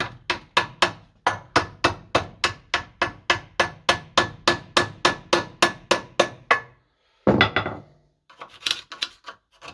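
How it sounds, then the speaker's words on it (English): A bigger hammer strikes a stiff part on a Bedford CA camper about twenty times in a steady, loud, close rhythm, then pauses before a few more irregular clanks. "Bigger hammer."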